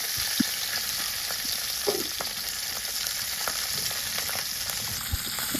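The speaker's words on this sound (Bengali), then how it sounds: "তো এবার আমি প্রথমে মাছগুলোকে ভেজে নিব।" Small river tangra fish fry in hot oil with a pinch of salt, giving a steady, dense sizzle with scattered pops and crackles throughout and no talking.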